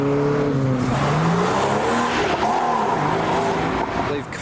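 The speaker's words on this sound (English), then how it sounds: "Boosted Mark II Golf and another noisy Capri." Modified cars such as a boosted Mark II Golf and a Capri leaving a car show, heard as loud continuous engine revving with rising and falling pitch and tire noise, close and dominant throughout.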